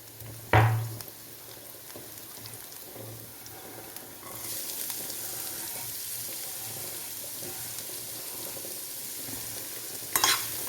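Onions sautéing with salt in a pan for egg roast, a steady soft sizzle with occasional stirring scrapes and a brief clatter near the start and end, fairly quiet and close.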